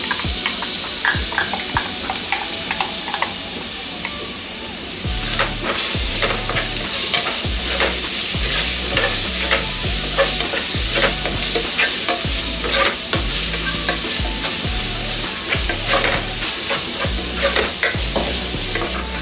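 Ground masala paste for green beans masala palya fries loudly in a pan, with a spoon scraping and stirring in rapid repeated strokes over a constant sizzle, close and with no talking.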